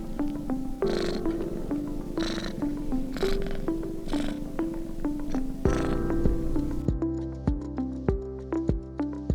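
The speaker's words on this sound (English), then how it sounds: "That soothing sound is called purring." A cat purrs steadily and close, a soft rhythmic rumble repeating with each breath.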